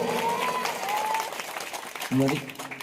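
Audience at a Kerala political rally breaks into applause, a broad clapping wash that swells near the end while a voice talks over it.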